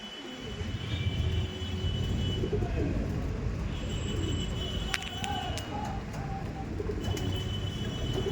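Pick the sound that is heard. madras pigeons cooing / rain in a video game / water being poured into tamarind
madras pigeons cooing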